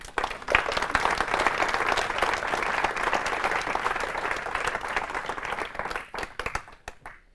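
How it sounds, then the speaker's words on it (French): An audience at a public hypnosis session claps steadily after a participant finishes, a full round of applause that thins out near the end into a few scattered last claps. "On peut l'applaudir"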